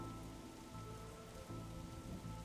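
Steady rain pours in The Darkside Detective, a dense, continuous hiss of drops drumming on a surface, loud and unbroken for the whole stretch with no voices over it.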